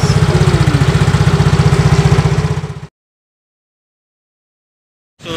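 A motorcycle engine idles close by in a steady rapid putter for a few seconds, then cuts out and goes silent, resuming only at the very end.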